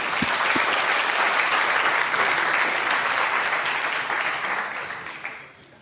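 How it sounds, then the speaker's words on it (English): Steady, dense audience applause for a Go programming conference talk, loud and sustained for several seconds before tapering off at the end, with no talk over it. "So round of applause."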